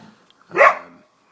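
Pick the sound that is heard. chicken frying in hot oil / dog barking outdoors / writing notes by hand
dog barking outdoors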